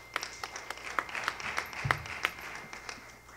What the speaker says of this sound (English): Let's give God a clap offering as Pastor comes.